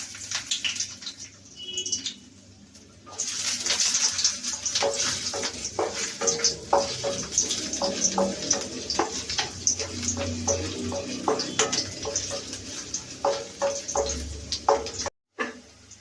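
Ginger dropped into hot oil for a coconut, mint and coriander chutney, bringing on a close crackling sizzle with scattered pops and stirring clinks that carries on for several seconds before a brief cutoff.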